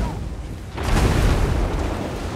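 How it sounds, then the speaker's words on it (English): Flame cannon volley in the Total War: Warhammer video game: a sudden loud boom at about 0.8 s swells into a sustained roaring, crackling burst of fire that fills the rest of the moment, with no talking. "So here comes the first flame volley."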